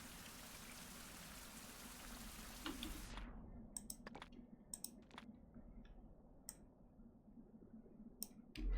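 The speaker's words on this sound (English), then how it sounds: "That rain is loud." Loud, steady rain in Fallout New Vegas Dead Money: a dense hiss that cuts away after about three seconds, leaving softer patter with scattered sharp ticks and clicks of drops.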